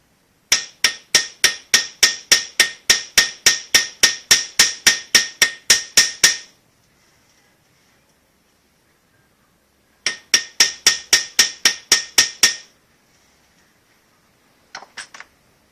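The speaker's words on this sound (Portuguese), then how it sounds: "Eu vou esmagar essa parte com o martelo." Hammer crushing a small metal pin for a miniature MDF truck body: a fast, even run of about nineteen sharp, close metallic strikes, a pause, then about eight more, with a faint tap at the end.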